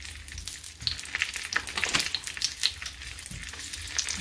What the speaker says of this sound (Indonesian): Selanjutnya kita goreng sosisnya. Panaskan wajan, kita goreng.